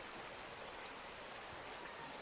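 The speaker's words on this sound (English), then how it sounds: "we've got the stream just ahead of us, which is absolutely stunning." A flowing stream beside thick bush near Auckland rushes steadily and close by, a continuous broadband wash with no voices over it.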